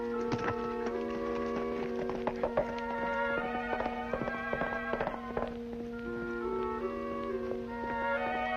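Hooves clip-clopping in an old black-and-white Western episode, an irregular run of sharp clacks over a steady humming tone and music.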